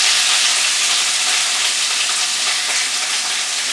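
Seasoning and cut garlic frying in a pot, a steady, close, bright sizzle that continues evenly without pause and without talk.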